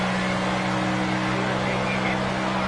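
In-car engine of the number 61 race car in NASCAR 25, a steady loud droning roar with a sustained hum, continuous and close throughout.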